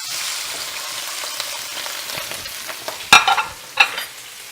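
Shrimp stir-frying in peanut oil in a hot pan, a soft steady sizzle with light scraping as they are stirred, followed by a couple of sharper clattering bursts near the end.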